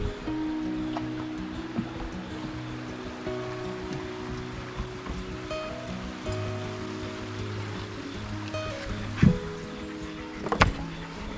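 Creek water flowing steadily through Natural Tunnel State Park in Duffield, Virginia, a continuous close rushing wash with a couple of brief louder knocks near the end.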